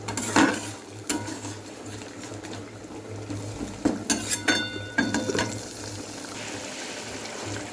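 Spice masala with tomato stir-fried in a pan over lowered gas, soft frying hiss under repeated clinks and scrapes of a spoon against the pan, several sharp clusters of knocks.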